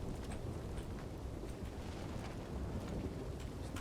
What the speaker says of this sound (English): This fucking rain's killing me.